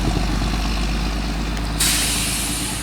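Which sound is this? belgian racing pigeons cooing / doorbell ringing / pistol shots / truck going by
truck going by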